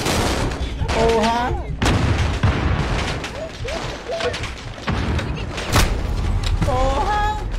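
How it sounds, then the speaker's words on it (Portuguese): Rapid bursts of gunfire and heavy thuds ring out during a video game shootout at an armed laboratory, shots crackling in quick volleys throughout, with short shouted voices in between. "Fico vendo os caras atirando"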